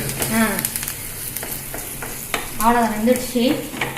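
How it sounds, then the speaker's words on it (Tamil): Green turkey berries (sundakkai) sauté in oil for a chutney, crackling and sizzling close by as they are stirred and scraped; a voice speaks briefly twice over the frying. "சொண்டக்காய் சட்னி நல்லா ப்ரௌனிஷாக வர வரைக்கும் நல்லா வதக்கி எடுத்துக்கலாம்"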